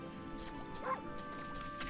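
A dog in the video game Okami HD gives a single short, faint bark or yip. It sits over steady background game music.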